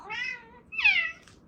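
A pet cat meows in greeting to a newly rescued housemate, giving two clear, close meows, the second louder and rising, in a quiet room.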